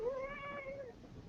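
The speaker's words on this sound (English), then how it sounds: "You hear your cat." A house cat gives a single clear meow, a short rising-and-falling cry heard close and alone over a quiet background.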